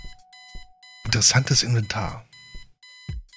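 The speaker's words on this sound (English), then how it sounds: "obnoxious alarm clock. The noise makes me want to stab myself with something dull" An alarm clock in the point-and-click game Kathy Rain rings with steady repeating electronic beeps, running through the clip under a voice speaking in the middle.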